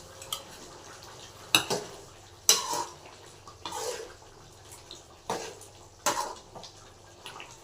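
A spoon stirs a chicken masala dish in a pan, giving irregular clanks and scrapes against the metal with quiet gaps of soft mixing between them.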